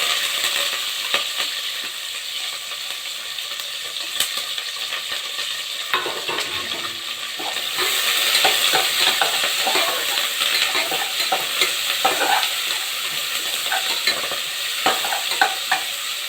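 Onion, dried red chillies and curry leaves hit hot oil with reddened dal in a pan for tamarind rice, a close crackling sizzle with repeated spoon scrapes and stirring that grows louder midway, with no talk.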